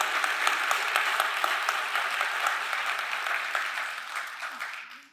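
A church congregation claps together in steady, dense applause that carries for several seconds and then fades away toward the end.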